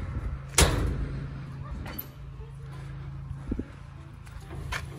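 A metal door in the housing of an automatic sliding gate is opened, giving one sharp clank near the start and a softer click later, with faint background noise between.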